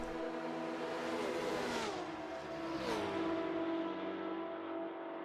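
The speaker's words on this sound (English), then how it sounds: "Quite a lot of volume coming out of these cars." P7000-class race car engines scream along the Mulsanne straight at Le Mans in a racing video game, loud and sustained, with two rising whooshes as cars pass and a steady high engine drone holding afterward.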